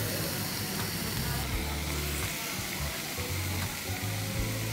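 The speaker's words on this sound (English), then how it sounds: "You hear the sizzle?" Pork fat sizzles and spits loudly on a hot barbecue grill, a dense continuous crackling hiss close up with occasional sharper pops.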